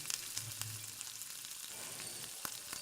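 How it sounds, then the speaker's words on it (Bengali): Potatoes and eggplant fry in oil in a pan, a steady close sizzle with small crackles and a few brief clinks, no voices. "আলুটা এক থেকে দেড় মিনিট ভেজে নিয়েছি এবার বেগুনটা দিয়ে দিচ্ছি"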